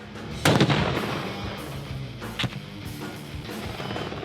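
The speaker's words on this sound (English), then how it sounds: "Blow up an enemy position with a grenade or a rocket launcher." A grenade or rocket-launcher blast hits an enemy position during a US Army Ranger competition, one sharp loud burst followed by a second, smaller bang over steady background noise.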